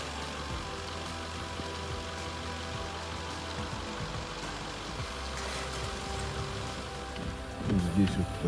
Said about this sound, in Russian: На улице дождь пошел